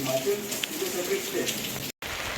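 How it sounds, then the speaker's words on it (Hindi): Steady heavy rain hisses on surfaces outdoors during monsoon weather, a dense continuous wash with a faint voice and a few tonal sounds over it, before a brief cutout near the end. "बारिश तो रुक ही नहीं रही है"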